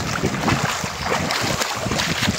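Feet wading through a shallow stream below a waterfall, with continuous close splashing and rushing water over steady wind buffeting.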